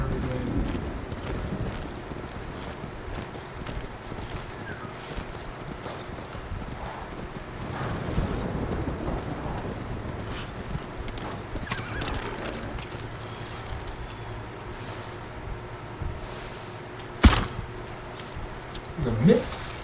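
Horse hooves clip-clop steadily in the Ghost of Tsushima video game, a continuous mid-level patter over a busy game soundscape, with a sharp loud hit near the end.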